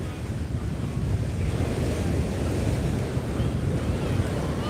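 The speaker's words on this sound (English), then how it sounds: "And you can just set up a spot and watch the waves. Pretty decent surf today." Ocean waves and surf at Cocoa Beach, Florida, a continuous heavy roar of breaking water mixed with strong wind buffeting the microphone, steady and loud throughout with no talking.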